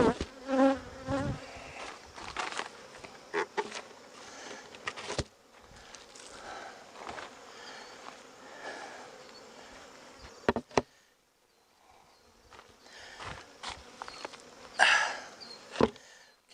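Honey bees working the last frames of a nuc hive during late goldenrod flow, a close, continuous buzzing drone that swells and fades as individual bees pass near, with brief knocks and a quieter stretch near the end.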